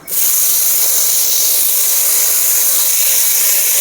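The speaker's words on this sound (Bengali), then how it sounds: "ওই তেলে লতিগুলো ভেজে নেব" Taro stolons hiss and sizzle loudly in leftover shrimp-frying oil in a wok, a steady broadband crackle that bursts in at once and holds without talk.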